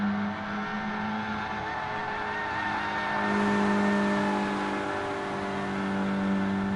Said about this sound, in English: burning out the tyres.